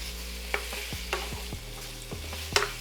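Thin-cut steak fries in a pan with a steady sizzle, broken by a scatter of short scraping and stirring knocks from a utensil at irregular intervals, close and fairly quiet, with no voices.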